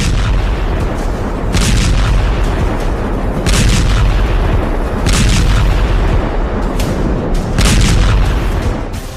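Heavy bombing in Lebanon and Gaza, a loud, continuous rumbling roar with repeated booming blasts swelling through it, without speech.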